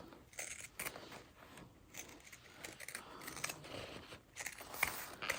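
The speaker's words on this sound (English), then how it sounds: "So then we want to use pinking shears." Pinking shears cut along the top edge of fabric for a sewing project in a quiet series of crisp, crunching snips, some faint rustling of cloth between cuts.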